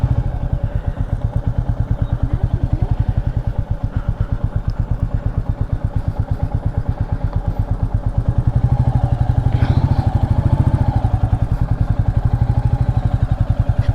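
A Royal Enfield Meteor 350 on a family ride thumps steadily with a rapid, even single-cylinder beat, loud and close throughout, with wind rumble swelling near the end.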